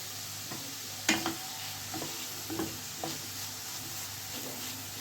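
Onion frying on medium-low flame in a pan for a Marathi tondli bhaji, quiet steady sizzle broken by several sharp scraping stirs of a spatula, no voices.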